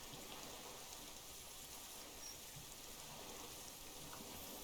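Steady rain falls in the Disco Elysium video game, a continuous soft hiss of drops on surfaces with no distinct events.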